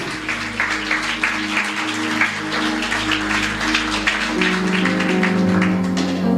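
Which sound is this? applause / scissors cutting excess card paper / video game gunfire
applause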